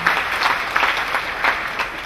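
An audience claps for Jesus Christ during a lively deliverance service. The applause is dense and continuous, with crowd noise underneath throughout.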